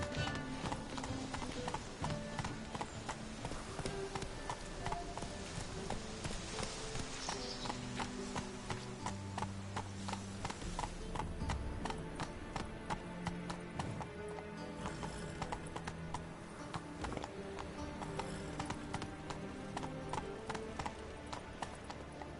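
Rhythmic clip-clop of the horse Roach galloping in The Witcher 3, hoofbeats fast and even throughout, with an occasional whinny and a continuous game music bed underneath.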